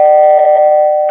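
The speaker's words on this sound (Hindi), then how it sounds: "मैं और एक बार घंटी बजा रहा हूँ" A single electronic doorbell tone rings out, a steady clear chime held for about a second, loud and close.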